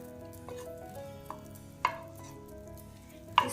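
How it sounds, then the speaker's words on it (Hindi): Yellow butter melts in a kadai with a soft, steady sizzle while a utensil stirs it, giving a few light scraping taps against the pan. "वाइट सॉस रेडी करने के लिए मैं सबसे पहले येलो बटर डालूंगी"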